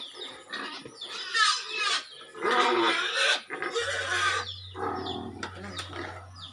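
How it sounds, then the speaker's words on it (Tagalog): A struggling pig squeals loudly in repeated harsh bursts outdoors, while people nearby talk over and between the cries. "Nagwawala na yung baboy oh"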